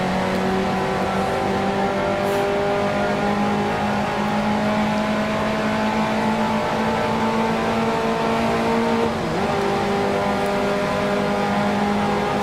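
A 1955 Formula One racing car in the Grand Prix Legends sim accelerates hard out of a hairpin at the French Grand Prix, its engine howling steadily and rising in pitch through the gears, loud and continuous with no talk.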